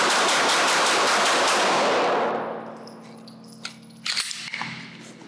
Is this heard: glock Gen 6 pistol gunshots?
yes